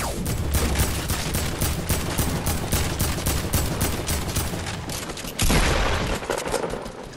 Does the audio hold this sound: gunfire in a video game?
yes